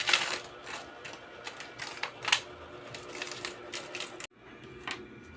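Philippine one-peso coins from a tricycle driver's change box clink and rattle as they are dropped and counted, in a run of close, sharp metallic taps with short pauses between.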